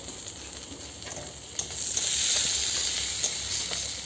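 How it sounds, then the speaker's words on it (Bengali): Cumin seeds temper in hot oil, producing a soft crackling sizzle that swells louder partway through and then holds steady, close by with no talking. "একটু জিরা ফোড়ন দিলাম।"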